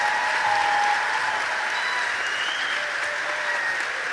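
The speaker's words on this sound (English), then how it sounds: "let's give our 8th grade graduating students another round of applause." At the Highland Middle School 8th grade graduation ceremony, an audience claps steadily in a sustained, dense round of applause that fills the hall from start to finish.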